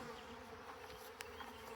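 A swarm of bees gathered on a tree branch hums faintly and steadily, a soft continuous drone with a brief small click partway through.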